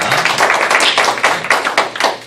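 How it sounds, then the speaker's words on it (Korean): Audience clapping at a coaching association gathering, a short loud burst of hand claps with distinct, uneven slaps standing out rather than a dense roar. "박수 부탁드립니다."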